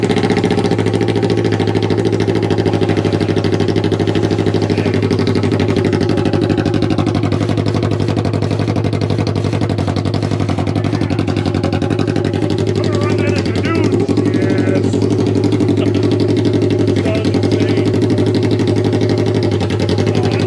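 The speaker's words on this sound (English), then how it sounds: "So we're gonna fire this baby up without the muffler on it. We're gonna see what it sounds like." A car engine on a fresh ECU cam tune fires up and idles rough without a muffler, a loud, raw, steady drone with uneven pulsing throughout and a voice talking over it.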